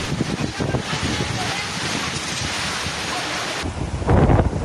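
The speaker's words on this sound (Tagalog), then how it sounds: "Malalaki ang mga alon." Strong typhoon wind buffets the microphone over a roar of big crashing waves in Aurora, Philippines, with a louder gust or wave surge near the end.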